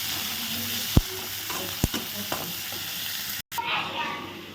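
Chopped onions sautéing in a pan for spinach stir-fry, a continuous close sizzle with a few sharp clinks and scrapes of a stirring spoon, briefly cutting out near the end.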